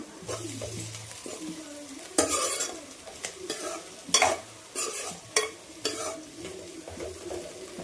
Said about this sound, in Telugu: ఆనియన్స్ కూడా వేగుతున్నాయి కదండి